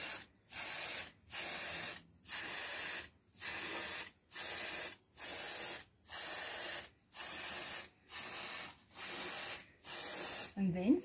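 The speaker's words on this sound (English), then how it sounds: "First spray the bottom." An aerosol cooking spray can hisses in about ten short, regular bursts onto the bottom of a muffin pan, close and crisp, separated by brief silences, with a faint voice near the end.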